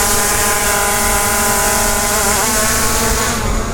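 Zino 2 Plus drone motors whirring at takeoff, a loud, steady high-pitched propeller whine with stacked tones that shift slightly in pitch as the rotors spin up, close by and with no talk.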